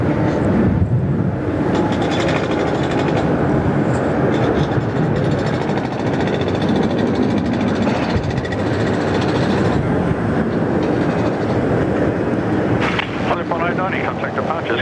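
All Nippon Airways flight 890 takes off at Sydney Airport with a loud, sustained broadband jet roar and wind rumble that holds steady throughout, and a voice speaks faintly in the background.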